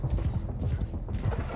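A horse gallops at full speed in the medieval combat game Mount & Blade II: Bannerlord, its hooves pounding a fast, steady clip-clop rhythm that stays close and continuous throughout.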